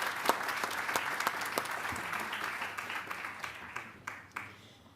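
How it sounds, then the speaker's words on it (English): A crowd applauds steadily, dense clapping from many hands that tapers off near the end. "A big applause to our speakers."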